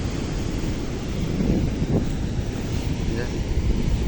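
Steady roar of sea waves and surf washing ashore at Thalaiyadi beach after heavy rain, with heavy wind buffeting the microphone throughout.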